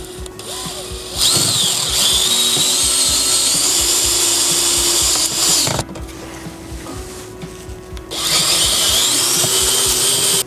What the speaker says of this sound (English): we're just going to screw it in place by pre-drilling the 2 1/8-inch holes under each where the holes are